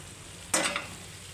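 Asafoetida and ghee hitting a hot pan while cooking a Bengali dal bora curry, a single sudden sizzling burst that fades within a fraction of a second, close and alone.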